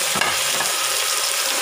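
Soaked rice fries with spices and coriander leaves in a hot pan, a loud, close, steady sizzling crackle with one brief knock of stirring near the start.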